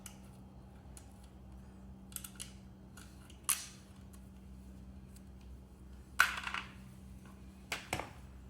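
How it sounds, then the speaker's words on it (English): Sharp metallic clicks and clinks ring out as an axle nut and anti-rotation washer come off an electric bike wheel. A few distinct taps sit over a quiet background hum, with louder clanks near the end. "Remove the axle nut. And this anti-rotation washer."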